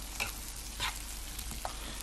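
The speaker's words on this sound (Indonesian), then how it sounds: "Lalu kita masukkan potongan tahu yang sudah kita potong." Half-fried tofu pieces sizzle in a hot pan for stir-fried bean sprouts with tofu, a steady frying hiss broken by a few soft stirring scrapes.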